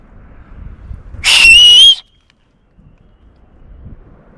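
A loud human whistle rings out outdoors at Big Sur on a hike with a puppy. It is a single sustained rising tone lasting under a second, with a faint echo and a quiet windy background around it.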